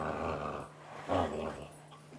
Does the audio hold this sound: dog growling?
yes